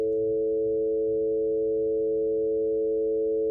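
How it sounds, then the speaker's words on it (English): Steady FM-synthesized tone built on a 440 Hz sine wave modulated by a second oscillator, a constant nasal buzzing pitch held evenly for a few seconds with no other sounds. "it still has the pitch of our original 440 hertz sine wave, but it's got a very different timbre. It's got a kind of nasal quality to it."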